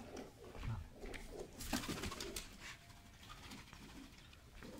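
Pigeons cooing in a loft, soft low repeated coos running through the whole stretch amid shuffling and handling noise, with a few brief louder bursts and no clear talk.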